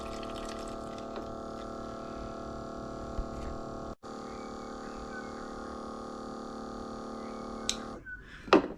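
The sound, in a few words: RC boat water pump running through large hose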